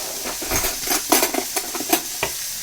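Butter hitting a hot pan beside Cajun steak, a soft steady sizzle broken by several sharp clinks and scrapes of a utensil against the pan, close and without talk.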